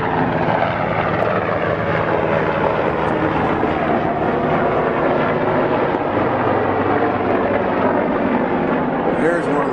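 An Apache attack helicopter flies toward an air base, its rotor and engine drone loud and steady throughout, with people talking over it.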